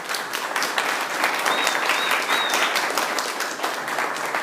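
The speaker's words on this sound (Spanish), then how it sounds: "Un aplauso para Esteban." A church congregation bursts into applause for Esteban, a dense continuous wash of many clapping hands filling the room, loud and sustained, with a faint whistle-like tone briefly rising over it.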